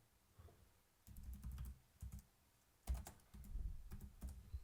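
Computer keyboard typing code in bursts of quick clattering keystrokes with short pauses between runs, close and fairly quiet, with no voices.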